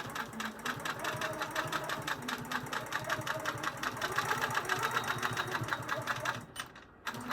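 A sewing machine stitches a quilt-as-you-go top onto a thick Costco blanket backing, running steadily at a rapid mechanical pulse for several seconds before stopping briefly near the end.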